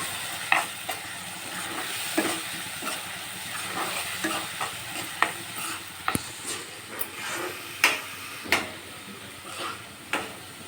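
Masala paste for fish curry frying in oil in a pan, with a steady sizzle and hiss under repeated scraping stirs of a spoon, close and fairly loud.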